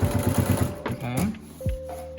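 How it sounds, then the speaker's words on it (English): Sewing machine double stitching a pocket corner while making a Piperoll, a quick close burst of rhythmic stitching that stops after about a second, followed by a short mechanical hum. "I like to double stitch that pocket corner."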